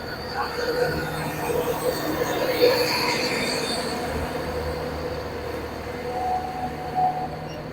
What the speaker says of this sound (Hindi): ट्रेन जैसा कि आप देख रहे हैं लग चुकी है प्लेटफॉर्म नंबर 6 की जगह प्लेटफॉर्म नंबर 7